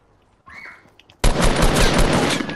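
In a squad shooter video game, a weapon fires at bushes. Faint background sounds give way to a sudden loud, continuous burst of rapid automatic shots that lasts to the end.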